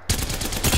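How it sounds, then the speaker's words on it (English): Video game gunfire from a G7 Scout in Apex Legends, a loud burst of several quick shots packed into under a second, close and punchy with no talking. "Opening fire."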